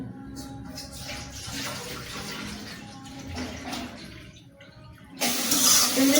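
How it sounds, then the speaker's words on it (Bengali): Hot water pours into a cooking pot on a stove, a continuous splashing rush that swells much louder and brighter toward the end. "আর রান্নার জন্য এই চুলে গরম পানি দিয়ে দিব"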